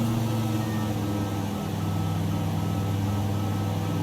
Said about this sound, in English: Oh, I'm getting some beepy beeps.